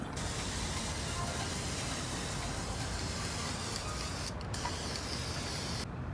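Continuous close hiss of a spray can, steady for several seconds with two short breaks near the end.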